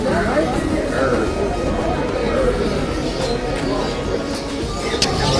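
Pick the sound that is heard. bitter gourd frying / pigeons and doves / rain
pigeons and doves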